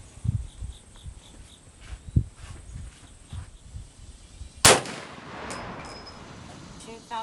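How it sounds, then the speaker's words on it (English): A 450 Bushmaster rifle fires at a 50-yard target outdoors: one loud, sharp report that decays quickly, after a stretch of quiet background with faint softer knocks. "Final 2 shots here in this group at 50 yards"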